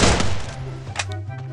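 Gunfire in the mobile battle game Garena Free Fire during a Clash Squad match: a dense burst of shots right at the start, then a sustained hum with a couple of sharper reports near the end.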